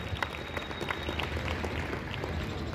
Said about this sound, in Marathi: विद्यार्थ्यांनी टाळ्या वाजवायचे आहेत.